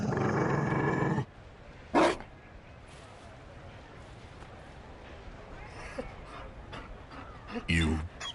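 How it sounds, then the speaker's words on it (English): A Mabari war dog from Dragon Age: Inquisition gives a short loud growl and bark, with fainter dog noises near the end; voices speak in between the bursts. "You found a dog?"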